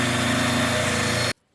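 A motor-driven polishing wheel loaded with polishing putty buffs guitar frets during a refret to stainless steel, giving a steady, loud whirring drone that runs evenly and then cuts off abruptly near the end.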